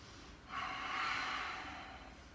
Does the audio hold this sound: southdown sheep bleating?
no